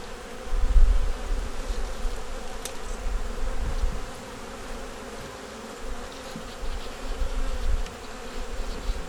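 Honey bees buzzing steadily in an open hive during an inspection, a dense low hum that swells and eases, close and continuous with no voices.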